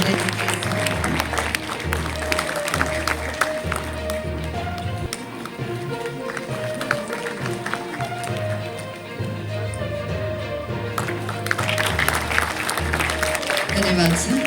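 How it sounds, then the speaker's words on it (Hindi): An audience at an official ceremony welcoming a minister claps loudly and continuously for a long stretch, with a bright, dense patter and a low background hum. "एक बार फिर जोरदार तालियां हो जाए माननीय मंत्री महोदय जी के"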